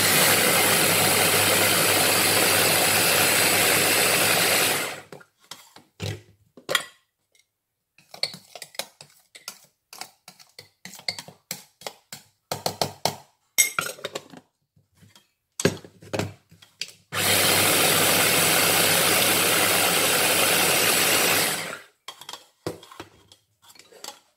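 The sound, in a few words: electric grinder grinding spices for leg of lamb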